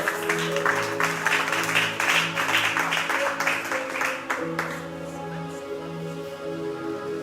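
A church congregation claps loudly to acclaim the Lord during an evening worship service, a dense wash of applause that fades after a few seconds while sustained musical tones carry on underneath.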